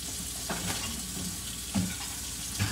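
Plates being washed under running water at a sink, a steady wet hiss with soft clinks and splashes rising now and then, fairly close and without speech.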